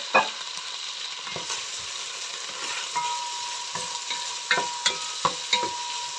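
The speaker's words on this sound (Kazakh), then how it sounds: "Пиязымызды қуырып аламыз." Onions for pilaf fry in hot oil with a constant soft sizzle, while a spoon or spatula scrapes and knocks the pan in irregular strokes that grow sharper toward the end.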